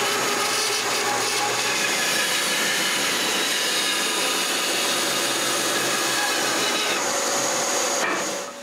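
A store-bought bandsaw with a smaller motor cutting wood, a loud continuous motor and blade whir with steady grinding texture, tailing off at the end.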